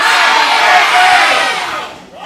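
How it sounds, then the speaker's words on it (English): A packed wrestling arena crowd roars and cheers loudly in a dense, continuous wall of voices that fades near the end. "That is one of the loudest crowds I've heard here at the Rocket City Championship Arena."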